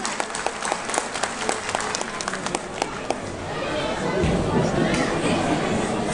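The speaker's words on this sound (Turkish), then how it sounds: "Güçlü bir alkış gelsin." Applause at a village cultural evening in a hall in Aşkale, Erzurum, starting as scattered individual claps under chatter, then swelling into louder, denser clapping from the crowd.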